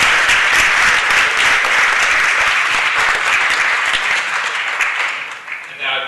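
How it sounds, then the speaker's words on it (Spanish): A room full of people at a city council meeting applauds the UCLA Bruins national champion students, with loud, sustained, dense clapping that thins slightly near the end. "vamos a darles una ronda de aplauso."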